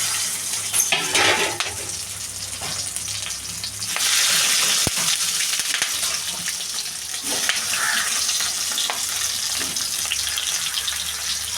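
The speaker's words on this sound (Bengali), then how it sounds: "এখানে পাতুরিগুলো ভাজার জন্য কড়াইয়ে একটু তেল নিয়ে নিলাম" Paneer paturi wrapped in banana leaf fries in oil in a kadai, giving a steady close sizzle and bubbling that swells louder midway, with occasional soft clinks and no talking.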